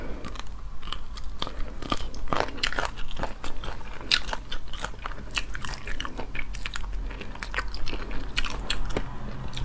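Close-up eating of spicy Sichuan pepper chicken feet, with loud, continuous, irregular crunching and wet chewing and no talk.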